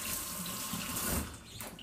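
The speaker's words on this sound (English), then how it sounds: "Now I'm washing this hand now." Water from a kitchen tap runs steadily over a hand being washed, a close, continuous splashing hiss with no talk.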